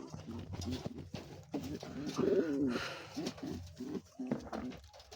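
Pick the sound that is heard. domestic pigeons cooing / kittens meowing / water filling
domestic pigeons cooing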